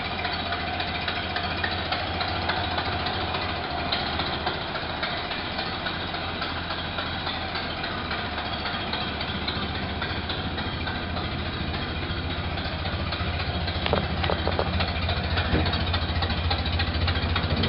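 Ford Model A engine idling with a steady, rough, close chugging drone and occasional knocks as it skips a beat, running continuously without talk.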